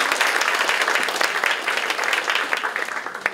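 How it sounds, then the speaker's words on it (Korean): An audience at an education forum gives sustained, dense applause for three district education directors, a loud steady wash of many hands clapping without a break. "세 분 교육장님께 다시 한번 큰 박수 부탁드립니다"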